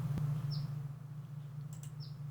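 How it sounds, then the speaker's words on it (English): Two short, high chirps from a bird somewhere away from the microphone, spaced about a second and a half apart, rising faintly over a steady low hum. "A bird chirping over there?"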